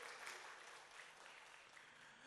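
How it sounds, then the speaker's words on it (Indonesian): A church congregation at an Indonesian sermon claps in a dense, even wash of applause, faint and distant, for a couple of seconds without pause. "kasih tepuk tangan yang paling meriah saudaraku"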